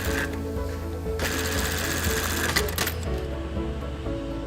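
Factory sewing machines stitching surgical masks, a steady rapid mechanical whir and clatter with layered motors running together, loud and continuous, with occasional bursts of extra clatter and no speech.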